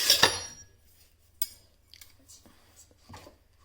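Murukku dough made with urad flour and white sesame seeds is mixed in a bowl, giving sparse clinks and light scrapes, with one sharp knock at the start and quiet gaps between the sounds.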